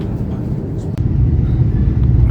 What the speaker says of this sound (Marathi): आता टेक ऑफ होत आहे